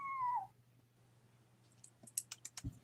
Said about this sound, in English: Kitty, kitty, kitty. Say hi to the microphone.